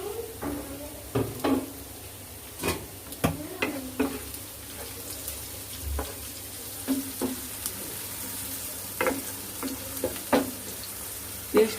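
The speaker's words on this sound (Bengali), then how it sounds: "এখানে ভাজা ভাজা হোক পেস্টটা।" Spice paste fries in a pan for a Bengali fish dish, a low, even sizzle punctuated by repeated sharp utensil knocks and scrapes against the pan at irregular intervals, close and moderately quiet.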